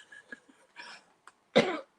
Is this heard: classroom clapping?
no